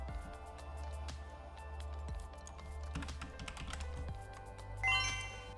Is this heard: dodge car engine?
no